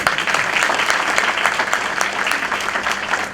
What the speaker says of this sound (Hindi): मारो ताली जोर से उनको